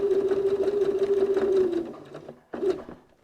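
A sewing machine stitches along a seam with a loud, steady rapid whirring hum, then slows and stops, followed by a short final burst of stitching.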